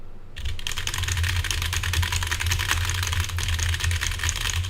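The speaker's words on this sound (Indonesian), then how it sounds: "kita akan langsung saja pengetesan dengan memakai keyboard" Rapid, steady clatter of typing on a computer keyboard captured through a Fifine K690 USB microphone, close and continuous with dense keystrokes and no speech.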